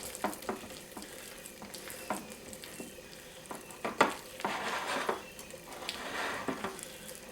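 A spoon works thick buttermilk cornbread batter in a bowl, giving close wet squelching strokes and scrapes in an irregular stirring rhythm with no talk.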